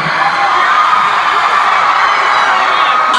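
A huge concert crowd in Phoenix, Arizona, roars with loud, sustained cheering, shrill whoops and yells that fill the space without a break.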